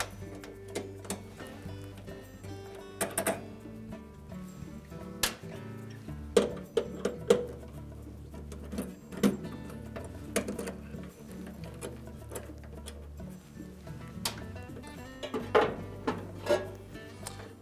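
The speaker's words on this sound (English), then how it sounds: "Then remove the 2 1/4 inch hex head screws that hold that thermostat" Hex head screws come out of a cycling thermostat on a Whirlpool dryer housing, heard as scattered close metallic clicks, ticks and short rattles over a faint hum, with no voices.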